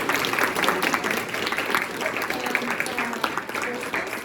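Audience applause after a public lecture on gravitational waves for Dr. Chen, a moderate, steady patter of many hands with murmured voices underneath throughout.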